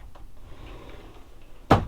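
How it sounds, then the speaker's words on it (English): A pocket door in an RV bunkhouse travel trailer, a Grand Design Reflection 312BHTS, slides and knocks shut with a single sharp thud at the end after a quiet, faint rustling lead-in. "And then it's a pocket door."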